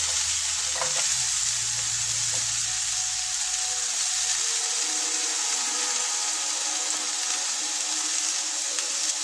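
Chopped onion hitting a hot seafood marinara pan, a burst of stirring and sizzle at first that settles into steady, fainter frying hiss, close with no talking.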